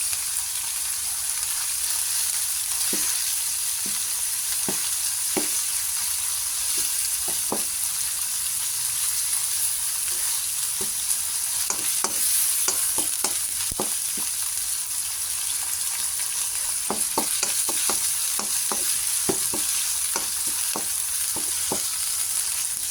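Tomatoes frying with sayote and ground chicken in a pan, a steady loud sizzle throughout with scattered sharp clicks and taps of a spoon stirring against the pan, close up.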